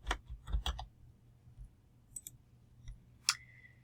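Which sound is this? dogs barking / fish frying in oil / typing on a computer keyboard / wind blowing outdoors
typing on a computer keyboard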